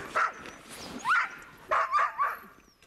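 Sled dogs in Alaska let out a few close, sharp barks and yips in quick bursts during feeding time, with no talk over them.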